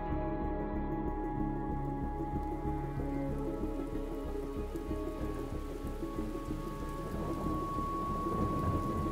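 Heavy rain pours steadily over a thunderstorm, with deep continuous rumbling thunder underneath, loud and enveloping throughout with no talking.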